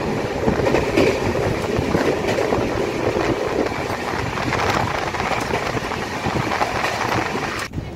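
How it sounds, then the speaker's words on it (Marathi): The Netravati Express passenger train running at full speed, heard from inside a coach: a loud, steady roar of wheels and rails with faint clatter, continuous for the whole stretch, with one brief sharp click near the end. "ट्रेननी सध्या आपली फुल स्पीड पकडलेली आहे"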